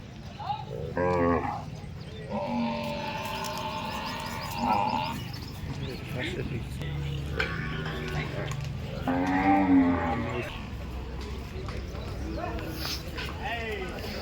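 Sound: Gir cow mooing at cattle market

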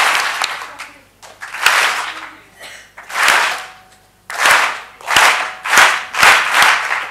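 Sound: audience clapping each time the hand is lowered

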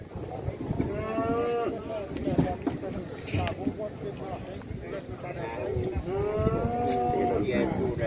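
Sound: cattle mooing at a livestock fair

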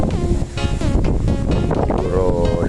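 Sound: strong wind

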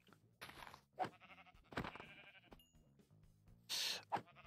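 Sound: sheep bleating in Minecraft video game

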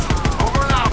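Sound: heavy gunfire in the Call of Duty WW2 video game

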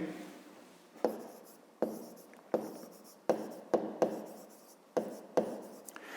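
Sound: pen writing on paper

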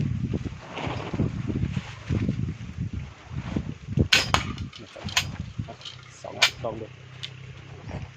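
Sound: strong wind blowing outdoors

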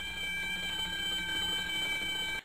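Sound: audible alarm of an oil discharge monitoring control system

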